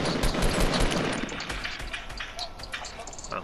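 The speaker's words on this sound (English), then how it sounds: "Why the fuck would you shoot, Darren?" Rapid bursts of automatic gunfire crackle through a Fortnite squad match, dense and loud at first then thinning into scattered shots, with brief voice fragments in between.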